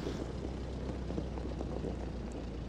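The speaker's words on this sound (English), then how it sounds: "Oh, those sounds of going over the gravel, that's so nice." Piper Cub taxiing over gravel in a flight simulator game, a soft, steady propeller-engine drone with faint crunching texture from the ground, low and continuous with no talk.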